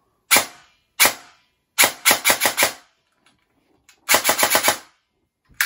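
Specna Arms H20 EDGE 2 airsoft gun firing indoors: single sharp cracks, then short full-auto bursts of rapid snapping shots with clear pauses between them, loud and close with no talking.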